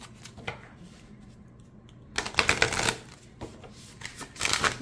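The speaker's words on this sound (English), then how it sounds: "yeah, shuffle the next pile." Tarot cards riffle and flutter in quick rustling bursts, a quieter shuffle first and then louder, crisper riffles close at hand.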